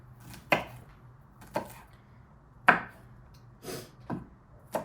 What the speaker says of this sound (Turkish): Ardından doğrayacağım şu şimdi